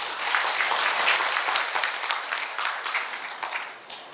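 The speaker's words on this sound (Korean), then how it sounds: "큰 박수 부탁드립니다." A crowd applauds steadily for several seconds at a government briefing session in Yangyang, Gangwon, South Korea, the dense clapping gradually thinning and fading toward the end.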